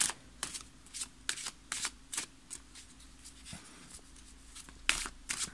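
Tarot cards are shuffled in quick bursts of riffling and slapping, close and crisp, with short pauses between the flurries and no voice.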